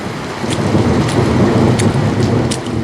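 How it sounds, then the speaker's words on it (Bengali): Heavy rain with big drops falls in a loud, close, steady roar, with a few sharper splashes standing out above the continuous wash and a low rumbling underneath. "তখন ছমছম করে বড় বড় ফোঁটায় বৃষ্টি নেমেছে।"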